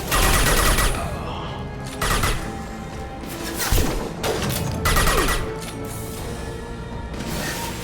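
Bursts of rapid gunfire and heavy weapon shots crackle in a Mass Effect 2 combat scene, loud dense volleys separated by brief lulls with impacts and mechanical clatter.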